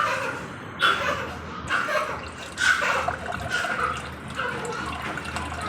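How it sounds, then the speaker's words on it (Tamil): Tamarind water pours and splashes into a pot of rasam in a home kitchen, making a steady liquid trickle with brief louder splashes, fairly close. "கலந்ததுக்கப்புறம் புளி கரைச்சி அதில் போடணும்."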